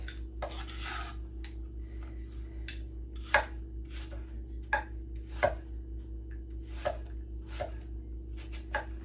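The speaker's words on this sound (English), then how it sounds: "Make sure you slice it so that you get those slices that are shaped like that" A knife slices through whole apples on a cutting board, each cut a sharp crisp chop, about eight spaced irregularly over a steady low hum, close and fairly loud with no talk.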